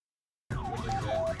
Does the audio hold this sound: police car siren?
yes